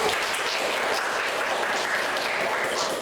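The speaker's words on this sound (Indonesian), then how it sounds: "Tepuk tangan buat Ani" A classroom group claps in steady, dense applause for a student presenter, a moderately loud, even patter lasting a few seconds with no voices over it.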